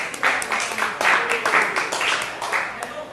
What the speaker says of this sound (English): Applause rolling, everybody.